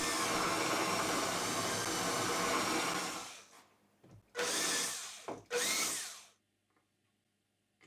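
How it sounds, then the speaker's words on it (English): A power drill bores pilot holes into a wooden workbench for threaded inserts, first one long continuous whine for about three seconds, then two shorter loud bursts with brief pauses between, close and alone. "I drill some pilot holes for some threaded inserts"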